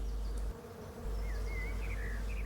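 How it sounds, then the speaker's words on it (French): Bees buzzing over flowering mustard in a vegetable garden, a steady close insect drone with wavering pitch as they move between blooms, under a low rumble of outdoor background. "On peut voir la moutarde qui est en fleurs, les abeilles qui sont dessus"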